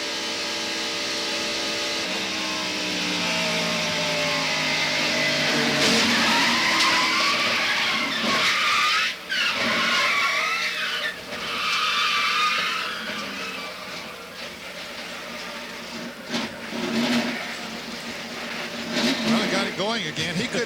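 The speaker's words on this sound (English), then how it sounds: "including Dick Trickle, whose Trop Arctic Pontiac was involved somewhat in the crash." A 1990 NASCAR Pontiac stock car at Daytona International Speedway, caught from the in-car camera during a crash: loud continuous engine roar with skidding and tire squeal, rising and dipping, under voices.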